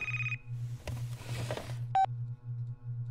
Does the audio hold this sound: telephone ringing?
yes